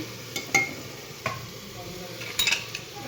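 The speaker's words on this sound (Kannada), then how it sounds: "ಸ್ವಲ್ಪ ಎಲ್ಲ ಚೆನ್ನಾಗಿ ಕಲಸಿ" Food being stirred and fried in a pan during home cooking before ground masala is added: a few scattered scrapes and clinks of the spoon over a faint, steady sizzle, close by and fairly quiet.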